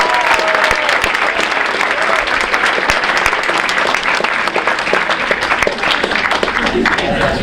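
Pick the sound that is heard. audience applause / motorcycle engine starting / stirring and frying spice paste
audience applause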